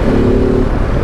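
A Ducati DesertX Rally motorcycle engine drones loud and close with a deep exhaust rumble, steady and throaty, with wind buffeting and no speech.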